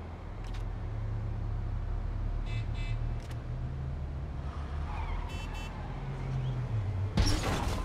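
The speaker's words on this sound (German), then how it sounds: "Flitzig unterwegs hier, der Porsche." A Porsche drives through city streets in the Unreal Engine 5 Matrix demo, its engine a low steady hum under traffic ambience, with a few short chirps and a sharp crash-like burst near the end.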